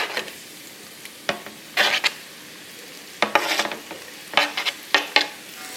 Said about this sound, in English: I'm gonna stir this so it's evenly distributed on the pan.